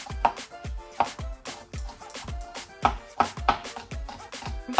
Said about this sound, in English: Gonna chop some onions and garlic to saute.